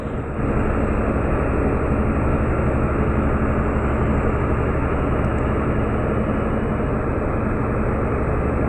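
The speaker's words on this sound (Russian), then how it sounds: "О, самолет летит." An airplane passes overhead while a boat moves through the Kizhi skerries, the aircraft's roar blending into a loud, dense, unbroken rushing engine noise that holds steady throughout, with no speech.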